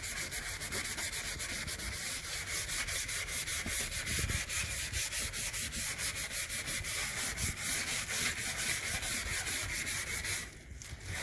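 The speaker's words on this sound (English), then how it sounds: "take a scrub, metal scrub, and" A metal scrubber rubs back and forth over a kitchen stove hob, producing fast, regular rasping strokes that are close, loud and continuous, briefly pausing near the end.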